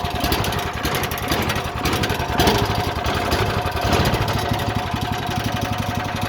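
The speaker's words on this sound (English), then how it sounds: "nothing better than having the sound of the engine right at the end" Small lawn mower engine powering a homemade racing kart, running at a steady idle with a rapid chugging pulse, loud and close, with slight rises in revs and no talking.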